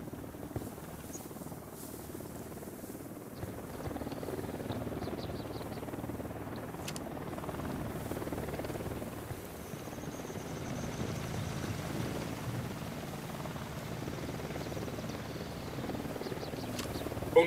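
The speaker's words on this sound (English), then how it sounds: "Don't need that chopper." Distant helicopter flying in the tactical shooter Ghost Recon Wildlands, a soft, steady rotor hum with low pulsing that persists throughout beneath quiet ambience, plus a couple of faint high ticks.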